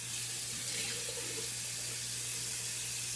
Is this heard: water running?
yes